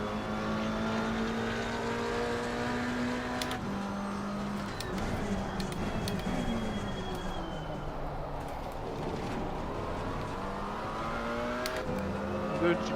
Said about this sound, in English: The GT4 sounds a bit lower, I would say.